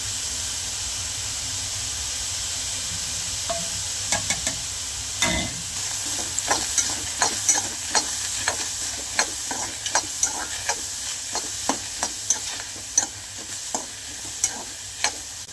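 Curry leaves dropped into hot oil for dal tadka, giving a continuous bright sizzle and hiss, with a string of sharp crackles and pops that grow more frequent toward the end.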